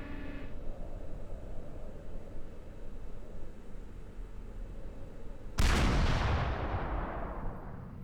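A Mavor artillery piece fires in the strategy game Supreme Commander 2: one sudden, loud, booming blast after a low ambient hum, its rumbling tail slowly fading away.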